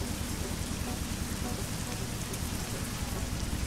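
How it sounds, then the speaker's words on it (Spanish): Heavy rain pours down in a Mexico-map truck driving game with a Kenworth T680 pulling a double trailer, a dense, loud, unbroken hiss of downpour with no voices. "Pinga de aguacero, mijo, que está cayendo."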